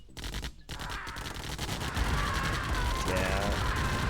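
Massed minigunner fire and artillery in Command & Conquer Tiberian Dawn rattle continuously in rapid overlapping bursts, loud and steady throughout.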